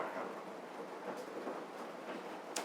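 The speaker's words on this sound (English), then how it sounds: "The rain is super noisy, but I'm gonna try it anyways." Heavy rain drums steadily on a greenhouse roof, a dense continuous hiss with scattered sharper drop impacts and faint rumbles, heard alone without voices.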